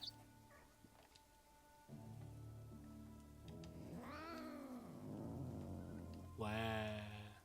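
A cat in the video game Drova gives a few drawn-out meows, the last one loud and rising, over a low continuous ambient background with no speech.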